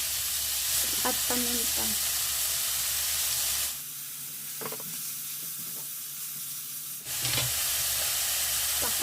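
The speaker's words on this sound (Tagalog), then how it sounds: "Habang ginigis na natin yan, lagyan natin ng asin" Ground meat sautés in a pan with a steady, close sizzle and hiss while a spoon stirs and scrapes now and then, and a voice speaks briefly over the frying.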